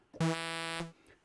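A bright, buzzy Argon8 synth tone with a pulse width modulation sweep sounds alone for just over half a second, its timbre shifting slightly before cutting off sharply.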